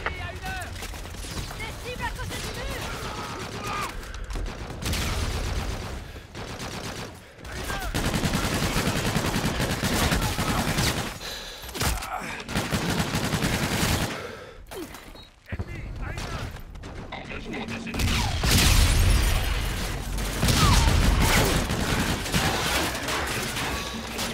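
Dense gunfire in the video game Call of Duty Infinite Warfare: rapid automatic bursts and heavy shots crackle and boom almost without pause, with brief lulls, under radio-style voices talking.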